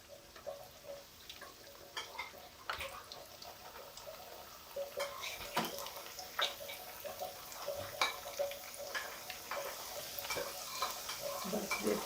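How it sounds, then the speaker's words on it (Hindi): Noodle and potato cutlets fry in hot oil with a soft, low sizzle and scattered pops and bubbling, fairly faint and close, the crackle building slightly over time. "अब तलना शुरू करें। ऑयल गर्म हो गया है।"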